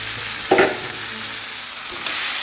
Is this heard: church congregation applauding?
no